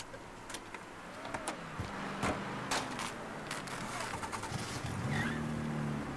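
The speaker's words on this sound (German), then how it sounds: "wir nehmen auf jeden Fall die Karre hier" Engine of a car driving in Mafia III, a steady low rumble with shifting pitch as it accelerates, moderately quiet under a few sharp clicks and game ambience.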